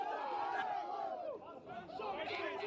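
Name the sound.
rugby crowd shouting after a big hit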